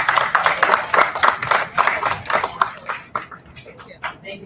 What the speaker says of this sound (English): Can we have a round of applause one more time?